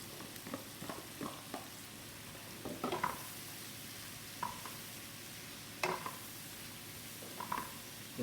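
Portobello mushrooms sauté in a pan, with a soft, low sizzle under repeated light spatula taps and scrapes against the pan.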